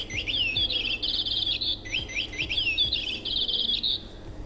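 A tit sings at a petting zoo, repeating a bright, high chirping phrase twice, fairly close and clear over low background noise.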